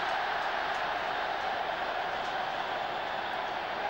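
A big stadium crowd at a cricket match in Ahmedabad cheers in a steady, distant roar, broad and even for a few seconds without distinct peaks.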